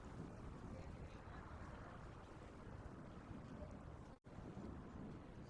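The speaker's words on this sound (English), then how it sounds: "Although it is kind of windy around here." Wind blows through a Hogwarts Legacy game scene as a steady, low, rushing roar, constant and fairly full, with a brief dropout near the end.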